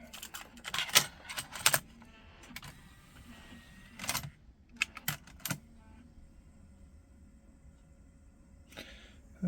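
A Sony TC-SD1 cassette deck being switched on and loaded with a tape after repair: a sequence of sharp mechanical clicks and clunks, close and clear, separated by quiet pauses and a faint running hum.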